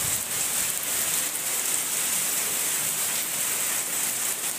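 Steady rain falls on a humid Friday, a soft, even hiss of drops hitting surfaces throughout, fairly faint and continuous with no voices.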